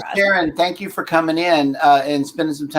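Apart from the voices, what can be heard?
None of the usual background noises is heard.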